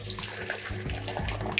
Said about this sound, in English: Now I'm going to fry it now just to get a very crispy fries.